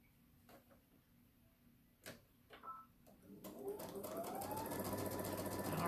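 A sewing machine stitches string-pieced strips for a jelly roll quilt, starting after a few faint clicks and building into a steady, continuous whir that grows louder toward the end, with no talking over it.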